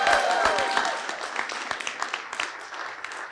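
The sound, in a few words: audience yelling and applauding at a nature center re-opening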